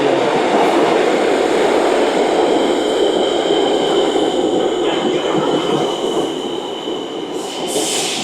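A loud New York City subway train rumbles and roars close by as it arrives, its steady mechanical din easing slightly toward the end with a faint high squeal.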